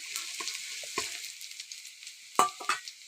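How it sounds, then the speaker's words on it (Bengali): Chopped onion sizzles in oil while a spoon stirs it, giving a close frying hiss broken by several sharp scraping knocks and clinks, with no voices. "পেঁয়াজটা একটু ভাজা ভাজা হলে"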